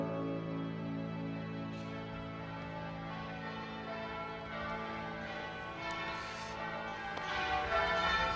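Church bells peal steadily at East Bergholt, a continuous layered ringing that stays loud and close throughout with no voices.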